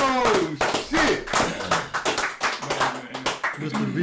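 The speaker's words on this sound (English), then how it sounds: "Let's give a round of applause." A small podcast audience gives a round of applause, with uneven bursts of close hand claps mixed with lively talking and exclamations.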